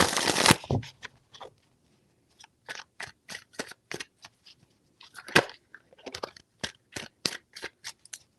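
Tarot cards are shuffled by hand in short, crisp bursts of riffling and snapping, a rapid series of close, dry clicks separated by brief pauses.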